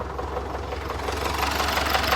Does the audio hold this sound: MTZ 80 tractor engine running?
yes